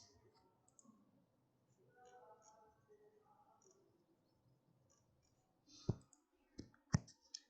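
Computer mouse clicks from a tutorial on a GPU image-classification task in a Jupyter notebook: a few sharp, close clicks near the end, after a stretch of quiet, low background noise.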